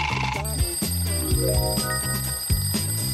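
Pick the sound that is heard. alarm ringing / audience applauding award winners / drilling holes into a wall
alarm ringing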